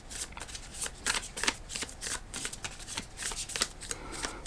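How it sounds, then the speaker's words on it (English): An Energy Archaeology Oracle card deck is shuffled by hand in a steady run of crisp, riffling bursts, close and clear, with no talking. "so we're going to pull cards for you, Leo."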